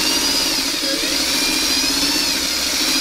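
A sewing machine stitches strip-pieced quilt fabric for four-patch and rail units, its steady, fast motor hum running continuously and fairly loud without a break.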